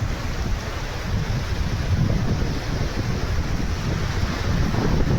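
Sea waves and wind at Gobardhanpur sea beach in the G Plot area of West Bengal make a continuous broad roar, with heavy low rumbling of wind buffeting the microphone over steady surf and no voices.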